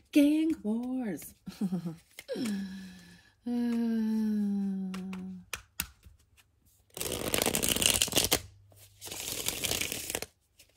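Two bursts of rapid riffling card noise, fairly close, follow a stretch of talking; the second burst is slightly softer.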